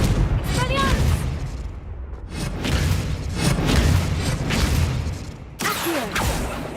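In Hogwarts Legacy, a Confringo spell goes off with booming blasts amid other magical combat effects, several deep thumps spread across the scene, with a voice speaking over the action.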